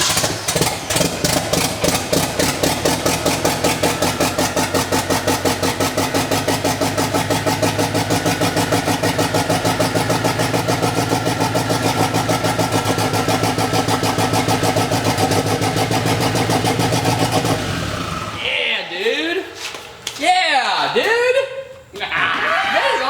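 A Ford EcoBoost car engine being fitted with a turbo cranks and roars steadily for a long stretch, then cuts out, leaving scattered voices and laughter close by.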